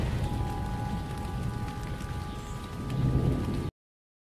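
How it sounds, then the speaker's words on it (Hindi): Heavy rain pouring steadily as an atmospheric story effect, a dense close wash of drops with a faint tonal hum underneath, swelling slightly before cutting off abruptly, no voices. "शहर से बहुत दूर एक जगह थी जहाँ पर तेज़ बारिश हो रही थी।"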